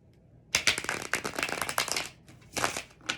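A Star Power Tarot deck is shuffled up close: a half-second of quiet, then a rapid crisp riffle of card flicks lasting about two seconds, followed by a couple of shorter bursts.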